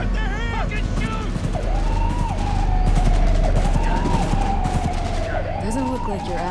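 Gunfire bursts crackle through a loud Cyberpunk 2077 street shootout, blended with a wailing police siren and shouting voices throughout.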